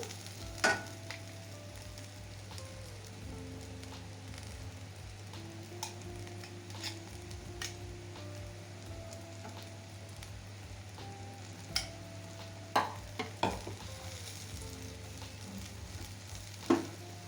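Okra being stirred with peanut powder in a frying pan gives a steady low sizzle, with occasional scraping clicks from the spoon and no talking.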